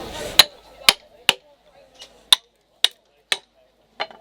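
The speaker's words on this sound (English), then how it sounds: "I just need to wedge this in position now." A wedge is tapped into a wooden bowl-carving bench at an outdoor bushcraft show, eight sharp, separate knocks spaced about half a second apart, starting over a moment of faint talk and then ringing out alone.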